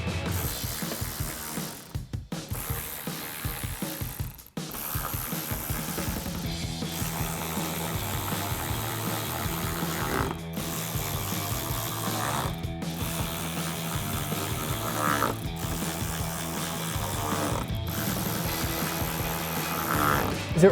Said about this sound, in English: So grab our ratchet, extension, and 7mm socket and get those in.